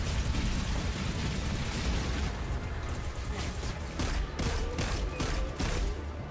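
Boss flame bomb attack in Destiny 2: a dense, continuous rumble of blasts and crackling bursts that stays loud throughout, with sharper pops stacking up in the last two seconds.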